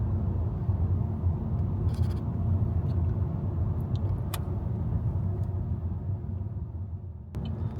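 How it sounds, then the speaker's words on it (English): Heavy stop-and-go traffic on the 405 freeway in Los Angeles, heard as a steady low rumble of car engines and road noise from inside a vehicle, continuous and even throughout with no talking. "bumper to bumper traffic on the 405 freeway? Well, folks, that is exactly what's happening right now"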